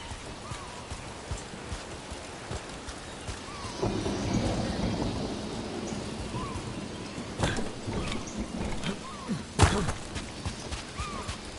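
Rain pours steadily in the video game Dragon Age: The Veilguard while rolling thunder swells in the middle, with a few sharp cracks and thuds later over the continuous downpour.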